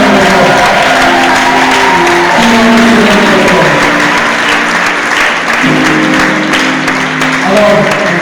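A church congregation in a Thiès, Senegal parish applauds and cheers in praise of the Lord, sustained loud clapping and crowd acclaim throughout, with music tones and singing voices mixed underneath.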